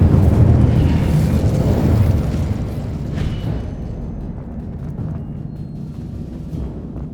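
Spell blasts and magical explosions in the Hogwarts Legacy video game, a loud dense rumbling roar at the start that settles into a steady crackling, booming wash with scattered bursts.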